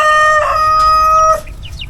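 A rooster crows loudly and close by in one long, harmonic call, followed by a few soft clucks.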